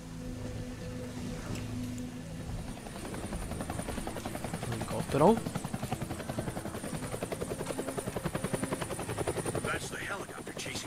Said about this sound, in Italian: Quello è l'elicottero che sta inseguendo i miei amici.